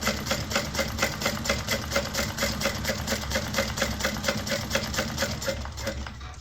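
A sewing machine runs a short back stitch while making a Scottie convertible bag, a steady rapid mechanical chatter of needle strokes at even rhythm, close and continuous.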